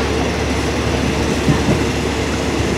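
Steady low rumble of a moving Thai train carriage in a VIP car, with continuous rail noise and faint clickety-clack of wheels throughout, close and even.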